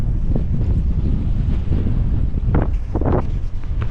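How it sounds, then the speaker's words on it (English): Strong wind buffets the microphone at a farm pond, with whitecap waves slapping and washing in close by, a steady loud roar throughout with a few splashes near the end. "Like there's literally whitecap waves coming in."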